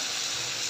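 A little water poured into a pan of frying dried fish (shutki) with eggplant and potato gives a brief, soft, even rush of liquid and sizzle, close and quiet.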